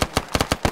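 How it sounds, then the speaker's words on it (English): Enemy Viet Cong gunfire in a Vietnam War video game, a loud, close burst of rapid rifle shots at an even rhythm, about seven cracks in under a second, heard alone. "Oh, that was close by, I can hear him shooting."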